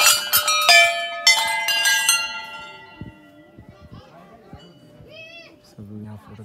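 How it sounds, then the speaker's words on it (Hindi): Several Hindu temple bells ring out in quick metallic clangs at a forest temple, their tones ringing on and fading, followed by children's voices chattering nearby. "भोलेनाथ मंदिर में आए हैं। कितने घंटी हैं"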